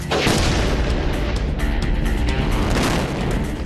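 A car blown apart by a large explosion at an outdoor test site, a loud sustained booming blast with rumbling debris that fills the whole stretch without pause.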